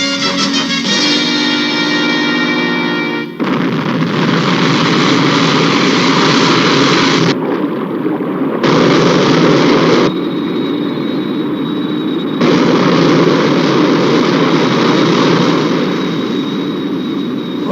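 Aircraft engines roar through a takeoff in a sci-fi movie trailer, a loud continuous broadband rush that cuts off and resumes in several abrupt segments with no talk.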